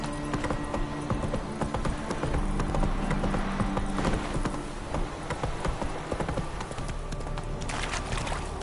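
Roach the horse gallops in The Witcher 3, a steady clip-clop of hooves running continuously at close range with a brief whinny, with ambient game sounds and faint rain-like noise beneath.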